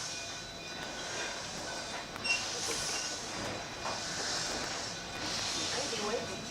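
Cumbres & Toltec Scenic Railway train pulling out of the yard at Antonito, a steady low rumble and hiss of rolling stock heard from on board, with faint chatter in the background.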